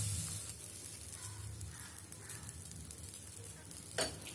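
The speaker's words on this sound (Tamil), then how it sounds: "இப்போ நாம் இதில் இந்த பேட்டரை ஊற்றிக்கலாம்." Thick banana pancake batter goes into a well-heated pan, and a soft, continuous sizzle follows with faint stirring and scraping close by, and no speech.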